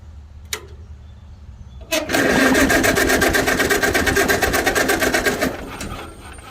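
A Farmall A tractor engine cranks briefly, then catches about two seconds in and runs with a loud, steady, rapid firing rhythm for several seconds before easing off toward the end, alone without talk.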